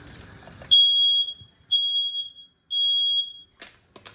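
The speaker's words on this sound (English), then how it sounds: "Excuse the alarm." A kitchen smoke alarm going off during cooking: three loud, piercing high beeps, each lasting about a second, evenly spaced with brief silences between, followed by faint clatter.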